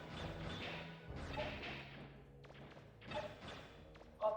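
Exploding pinball weapon in a Mega Man game, firing a run of quick thumping impacts and bursts that repeat in clusters amid game sounds, moderately loud.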